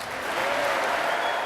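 Dense, sustained clapping from a large crowd welcoming Jeremy Corbyn at the Labour party conference, loud and continuous with a faint murmur of voices.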